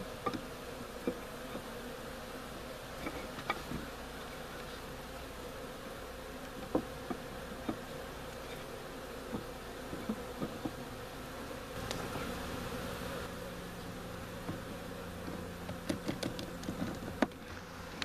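Honey bees from a captured swarm buzz around a hive in a soft, continuous hum, with scattered close fly-bys and light tapping and handling knocks nearby.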